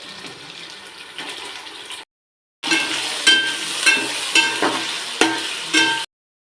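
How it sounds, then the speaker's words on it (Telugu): Ginger garlic paste frying in a pan gives a close, bright crackling sizzle in two bursts separated by a short silence, with faint scraping in places and no voices. "అల్లం వెల్లుల్లి పేస్ట్ వేగిపోయింది"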